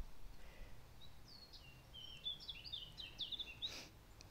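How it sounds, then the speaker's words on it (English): Garden birds tweet faintly in the distance, a scattering of thin high chirps that grow busier partway through over a soft outdoor hush. "We have lots and lots of garden birds here. Can you hear them tweeting in the background?"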